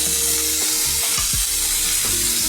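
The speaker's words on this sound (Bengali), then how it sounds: "তো তাতে আমি এখন দিয়ে দেব কাঁচা লঙ্কাটা, সব দিতে দিতে এমনি ভাজা হয়ে যাবে।" Green chillies fry in a pan, a loud, continuous hissing sizzle with brief stirring knocks over it.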